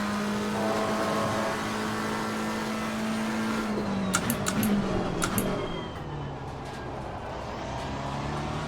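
A McLaren 720S GT race car engine in the racing game Assetto Corsa Competizione, a sustained droning engine note with shifting pitch and a few sharp clicks midway, then a slightly quieter stretch, no talk.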